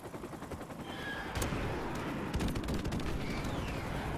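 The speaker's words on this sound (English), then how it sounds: "Dude, who called in an airstrike?" Airstrike in the shooter Modern Warfare Remastered: a dense, continuous roar of overlapping explosions and rapid gunfire, sustained and rumbling for several seconds, distant to mid-range, with no voices.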